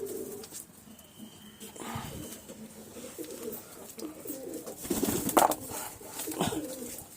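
Pigeons in a loft coo softly at feeding time, low repeated calls overlapping with light fluttering and scuffling, moderately close amid a faint background hum.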